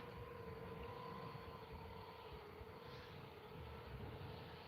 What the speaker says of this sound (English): Where's that drone? Can you see the drone?